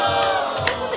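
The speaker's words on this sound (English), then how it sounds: "It was a cheer" A studio audience at a comedy show lets out a brief, loud shout of cheering, sustained for about a second, with voices rising together close by.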